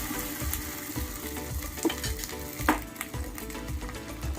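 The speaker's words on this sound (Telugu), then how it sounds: "ఇప్పుడు దోశ అయితే వేసుకుందాం." Dosa batter hits hot oil in a small pan on medium flame, giving a fairly quiet, steady sizzle with a few soft bubbling pops and light utensil clicks.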